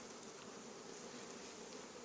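Honey bees buzz at a hive during feeding with sugar syrup, a steady dense hum, close and faint, with no talk.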